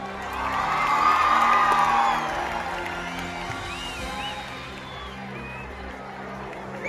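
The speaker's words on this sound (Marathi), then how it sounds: "संजय सरांसाठी जोरदार टाळ्या" A college audience cheers and whoops at a film promotion event, a loud burst of crowd noise in the first two seconds that settles into a sustained murmur of applause and shouts.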